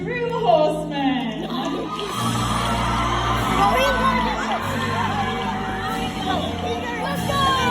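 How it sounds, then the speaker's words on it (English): An audience at a medieval tournament show cheers a horseman, a sustained roar of crowd noise with mixed shouts and voices that holds steady throughout. "My lords, my ladies, please cheer and honor this true horseman."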